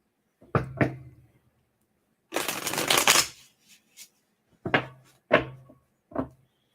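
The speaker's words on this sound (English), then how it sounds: "I can shuffle much better off the cloth" Playing cards riffled and bridged close by on a cloth outdoors in a garden: a few sharp snaps, one longer shuffling burst, then more crisp card taps.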